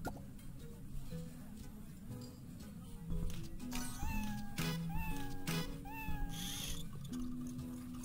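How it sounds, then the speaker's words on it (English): Gary the snail meows repeatedly in the SpongeBob vs. The Big One video game, several clear cat-like calls over looping game music. "let's make Gary meow"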